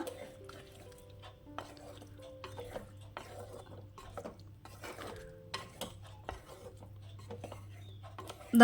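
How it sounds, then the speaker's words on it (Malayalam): Tomato and drumstick curry with plenty of curry leaves being stirred in a pan, repeated close scraping strokes of a spoon with a soft sizzle beneath, uneven in rhythm. "കുറച്ചേറെ കറിവേപ്പിലൂടെ ചേർത്ത് നന്നായിട്ടൊന്ന് ഇളക്കിയെടുക്കുക"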